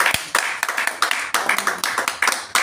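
A church congregation claps in a quick, steady rhythm while acclaiming the Lord, with the sharp hand claps fairly close and evenly spaced.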